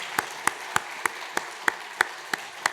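Church congregation claps to bless the children at a Sunday service: sharp, evenly spaced single claps in a steady rhythm, fairly faint and reverberant.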